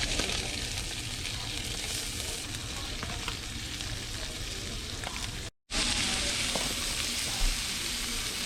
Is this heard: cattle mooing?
no